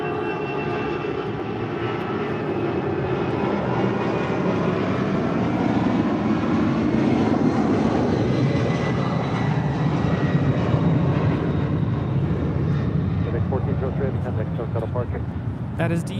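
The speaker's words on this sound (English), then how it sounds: "That is DHL operated by ABX Air 1403 departing to Cincinnati, Kentucky on a 767-200 freighter." A DHL Boeing 767-200 freighter operated by ABX Air departs from LAX, its jet engines producing a steady, broad roar that swells and holds, with a voice talking over it.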